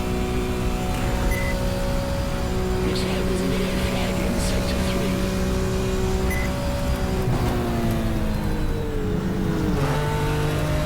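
A race car on the Nürburgring in the GTR2 racing game, its engine droning steadily and looping between second and third gear, with pitch rising and dropping through the shifts under continuous loud engine noise.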